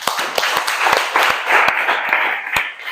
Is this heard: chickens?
no